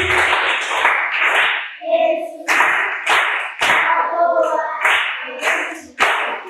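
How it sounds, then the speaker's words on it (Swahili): An audience claps hands in repeated loud bursts of applause, each wave swelling and then breaking off before the next, with a few voices briefly heard between rounds. "Sawa, pigeni makofi."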